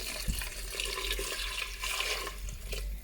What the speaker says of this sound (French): Je vais mettre maintenant la quantité d'eau que je veux pour mon repas, on va dire, pour ma soupe.